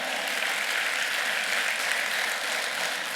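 A church congregation claps together in a steady, dense burst of applause, continuous and fairly loud across the few seconds, with no voices standing out.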